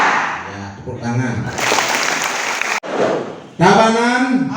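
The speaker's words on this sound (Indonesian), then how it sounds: "Ya, tepuk tangan." An audience at an education workshop in Tabanan breaks into applause, a dense wash of clapping that swells in two bursts, with a speaking voice before and after it.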